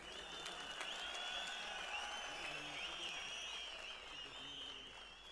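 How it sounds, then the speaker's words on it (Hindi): Applause and whistles from a crowd welcoming the chief minister onto the stage at a golden-jubilee event, steady distant clapping with shrill high whistles over it. "आप भी अभी मुख्यमंत्री जी मंच पे आ रहे हैं और तालियों सीटियों से इनका स्वागत करें"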